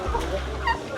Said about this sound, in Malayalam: ഗംഭീര ടർക്കിയുണ്ട്.